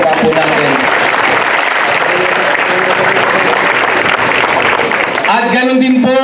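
Crowd applause at an outdoor Day of Valor commemoration honoring veterans, a full, sustained clapping that runs loud for several seconds, then a voice comes in over the fading claps near the end.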